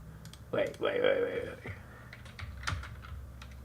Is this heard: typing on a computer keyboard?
yes